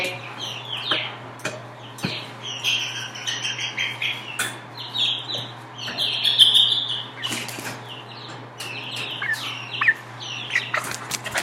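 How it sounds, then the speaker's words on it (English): Loose hens in a garage, clucking and chirping in irregular bursts with occasional wing flaps and scuffles, fairly close and loud over a low steady hum, no talk. "Chickens on the loose!"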